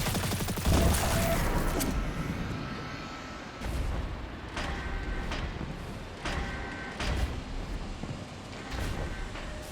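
Gunfire in Destiny 2 aimed at a fuse, a loud rolling barrage at first followed by several sharp separated shots and booms.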